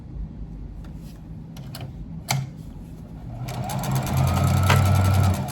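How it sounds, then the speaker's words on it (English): Close up, a sewing machine runs steadily over a scrap quilt block, its hum building and growing louder toward the end, with a brief click partway through. "I'm just going to keep sewing"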